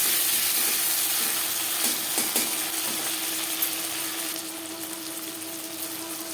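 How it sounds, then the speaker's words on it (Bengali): Black cumin seeds frying in hot oil make a steady, close sizzle with a low hum underneath, slowly easing off toward the end. "ফোড়নে দিয়ে দিলাম ছোটো 1/2 চামচ কালো জিরে।"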